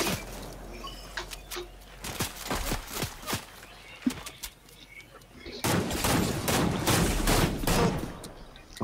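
Rapid bursts of video game gunfire, including shotgun blasts, crack out in uneven volleys during a two-against-two match, with the loudest sustained barrage near the end and voices faintly in the background.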